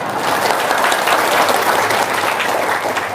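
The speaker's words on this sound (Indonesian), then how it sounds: "Tepuk tangan dong." Audience at an Indonesian comedy show claps, a steady wash of applause lasting a few seconds with no talk over it.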